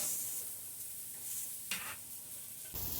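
Garlic hits a hot wok for a quick stir-fry, making a bright, hissing sizzle that swells in short bursts as it is tossed, close and steady without any voices.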